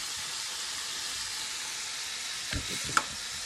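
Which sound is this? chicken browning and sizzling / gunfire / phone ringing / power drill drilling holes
chicken browning and sizzling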